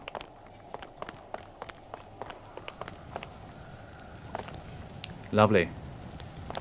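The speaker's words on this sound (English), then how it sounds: "So we have footsteps, we have ambience, we have various emitters put around the scene." Video game footsteps crunch at a steady walking pace over a low fire crackle ambience built in FMOD, with a cold outdoor feel around burning fire pits. A voice speaks briefly near the end.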